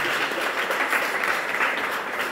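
Steady audience clapping at a talk addressed to girls, a dense, even patter of many hands sustained throughout, moderately loud with no speech on top.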